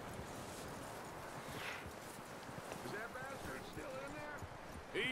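Horse hooves clip-clopping in the Red Dead Redemption video game, a steady trotting rhythm of soft thuds under game ambience, with a voice talking over it.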